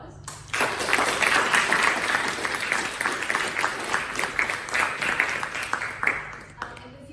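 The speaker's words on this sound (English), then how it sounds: "so I think they all deserve a big round of applause" Audience at a public debate on Scottish independence breaks into applause after a brief quiet moment, a full, continuous round of clapping that carries for several seconds before tapering off, with faint crowd murmur underneath.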